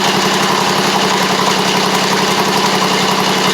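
A Briggs V-twin engine on a Poulan Pro (Craftsman) riding mower idles steadily at low throttle, giving a loud, close, continuous rumble with no talk over it.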